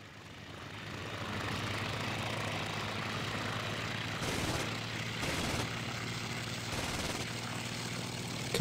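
A WWII-era aircraft engine in the flight sim IL-2 Sturmovik on a night mission, a loud steady propeller drone that swells and pulses slightly partway through, with no voices over it.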